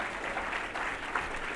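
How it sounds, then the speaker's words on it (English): Gala audience applauding an honoree at an advocacy awards ceremony, a dense steady wash of clapping from a large crowd throughout the short moment, no voices standing out. "big round of applause."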